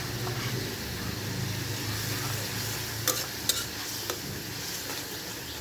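Shrimp frying with spices in a pan, a steady close sizzle under repeated scraping and stirring, with a few sharp clinks of a utensil against the pan.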